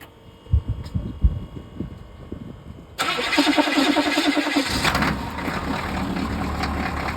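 A car engine cranks and catches after a few seconds of quiet knocking and handling noises, then settles into a loud, steady idle that continues to the end.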